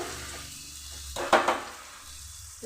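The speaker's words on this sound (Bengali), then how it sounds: "মশলা কষে নিচ্ছি মশলাটা আমার কষা হয়ে গেছে তেলটা ছেড়ে দিয়েছে" Spice paste cooking down in oil for a tangra fish curry, a soft low sizzle interrupted by a brief burst of stirring and frying noise, with no voices.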